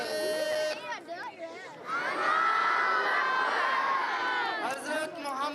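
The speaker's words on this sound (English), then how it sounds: "Large crowds gathered to welcome Huzoor at the mosque." A large crowd cheers and shouts at a mosque welcoming Huzoor, many voices whooping and calling out in a sustained, swelling roar that stays loud throughout.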